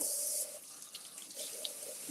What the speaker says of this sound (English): Let me just give these a rinse.